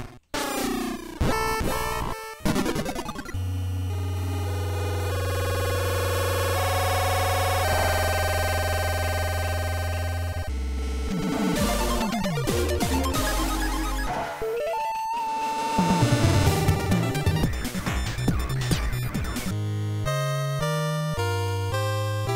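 Sound effects from the Famicom game Astro Ninja Man: a string of chiptune bleeps, buzzy tones, descending sweeps and noisy bursts, played one after another without talk.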